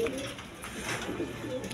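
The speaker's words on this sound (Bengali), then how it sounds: "একদম কোয়ালিটি সম্পন্ন কবুতর, ডিম বাচ্চা করানো কবুতর" Spangle-coloured stretcher pigeons at a pigeon sale coo softly in low, rolling calls, with voices of people murmuring in the background.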